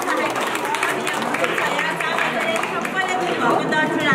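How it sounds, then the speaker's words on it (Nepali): A school audience at a Dharan school for visually impaired students claps together, a steady dense patter of many hands with crowd chatter and children's voices mixed in throughout. "गाइस ताली बजाउँ सबैले"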